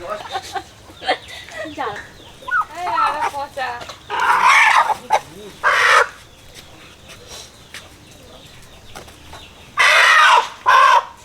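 A Kalvert chicken clucks and squawks in short, loud bursts at close range, with a person talking between the calls.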